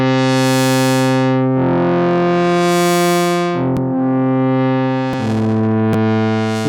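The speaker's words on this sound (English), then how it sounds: "So we'll start with our distortion." A synth patch in SynthMaster 2.9 played through a distortion effect, with sustained buzzy harmonic-rich chords that swell and shift across several changes, punctuated by brief clicks.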